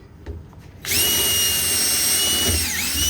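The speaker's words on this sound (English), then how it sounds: "drill holes in it." After a couple of soft knocks, a power drill whines up to a loud steady high-pitched spin, holding close and constant with a brief dip in pitch.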